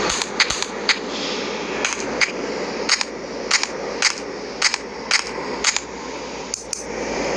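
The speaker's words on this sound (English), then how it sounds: "Paintball gun." Sharp paintball gun shots pop off in quick bursts of two or three, repeating about every half second over a steady background hiss, fairly close and loud with no talking.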